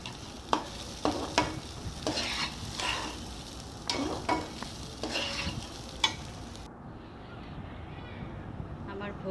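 Pulao cooks in a pot as an offering meal, with soft, steady sizzling broken by several sharp utensil clicks and scrapes, fairly faint and fading toward the end.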